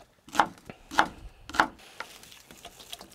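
A knife chops a white onion into chunks on a board for a stir-fry: three firm, evenly spaced chops close up, then lighter, quieter cutting.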